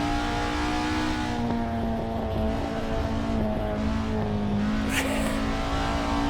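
Small Honda Acty kei truck engine revving steadily while drifting in Assetto Corsa, a continuous droning whine with shifting pitch and faint tire squeal, close and constant, no talk.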